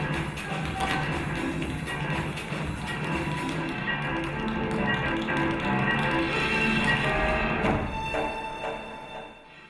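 Percussive footwork from a performance blending tap shoes with other rhythmic styles, a dense, continuous stream of loud taps and thuds layered over music and crowd ambience, steady throughout before easing off near the end.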